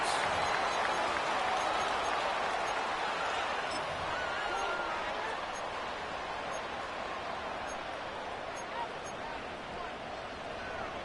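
Stadium crowd noise from an EA Sports football video game, a steady, dense roar of cheering and murmur that fades slightly over time, with a commentator speaking over it.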